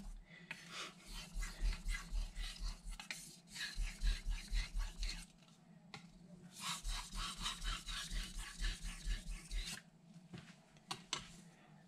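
Steady rhythmic strokes of a knife blade scraping back and forth across a Naniwa Aotoshi whetstone in slurry, repeated in bursts with brief pauses, close and fairly quiet.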